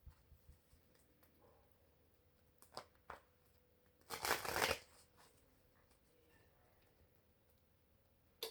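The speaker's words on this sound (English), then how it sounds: "I'm just going to shuffle 3 times and draw from this one" Tarot cards are shuffled in one brief, close riffling burst of about a second, with a few faint taps and handling sounds around it in an otherwise quiet room.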